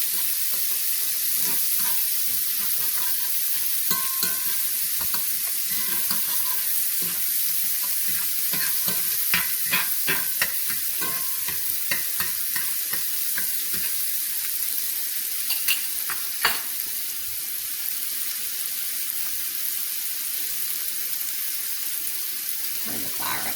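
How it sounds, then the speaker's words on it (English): Onions, little sweet yellow and red peppers and spring onions sauté in a pan on the stove, giving a steady hiss and sizzle that runs the whole time, with occasional stirring clicks and scrapes and no voice over it. "onions and peppers. I got the little sweet yellow and red peppers with some spring onions. And I'm just going to saute those a little bit."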